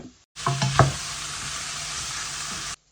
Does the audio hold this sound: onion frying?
yes